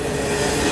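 A CN mixed freight train, eastbound with locomotives 2808 and 29 leading, rumbles past near the Ingersoll, Ontario station, a steady close roar of wheels and cars without a break.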